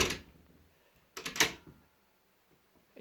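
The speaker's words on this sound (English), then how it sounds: "you'll find if I close the door" A house door is pushed shut against a newly adjusted latch keeper, giving a short, fairly close double thud and click with no rattle, followed by near silence.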